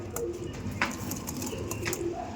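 Andhra breed pigeons coo softly nearby, a few low, rounded calls against a quiet, steady room background.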